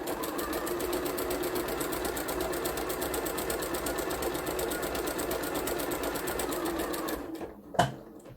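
A sewing machine runs steadily, sewing curly stretch jersey fabric with a triple stretch stitch, a fast even whir heard close and alone, ending with a sharp click as it stops.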